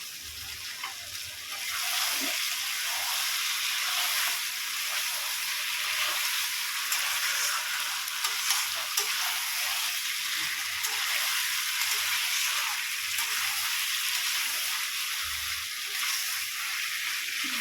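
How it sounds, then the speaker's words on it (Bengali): Chicken sautéing in a pan, a loud, steady broadband sizzle of frying that runs nearly continuously, with occasional low scrapes and stirring knocks. "একটু ভালো করে কষিয়ে নেবো"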